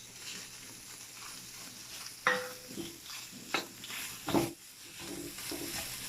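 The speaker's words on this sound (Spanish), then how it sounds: "vamos a empezar a echar nuestro tocino para que se vaya friendo" Bacon sizzles softly and steadily in a pan in its own fat with no added oil, broken by a few clinks and scrapes of a utensil stirring.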